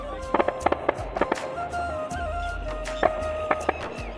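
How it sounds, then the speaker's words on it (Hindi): At a Dussehra fair, a Ravana effigy bursts with firecrackers, giving sharp separate bangs and crackles over a steady crowd murmur, with a couple of quick clusters and then scattered pops. "तो गाइस देखिए रावण फटता हुआ"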